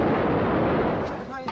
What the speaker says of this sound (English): American-built heavy artillery defending the Islamic Revolution.